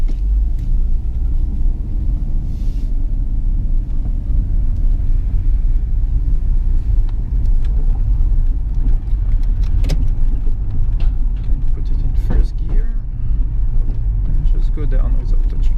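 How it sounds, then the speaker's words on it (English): A 1997 Nissan Stagea RS Four V station wagon driving, with a steady low engine and road rumble heard from the cabin under ongoing talk, plus occasional small clicks and knocks. "So this is actually my first normal Stagea."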